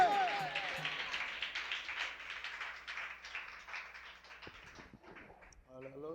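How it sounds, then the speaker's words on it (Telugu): Congregation at a Telugu Christian worship service clapping hands together in praise of Jesus, a dense, steady wash of applause that thins toward the end, with voices mixed in. "యేసయ్యకు మనము చప్పట్లు కొట్టాలి"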